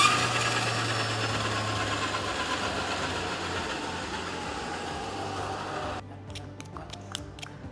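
A new motorcycle's exhaust note: a steady engine rumble runs close by and slowly fades, then drops to a quieter idle broken by a few short clicks.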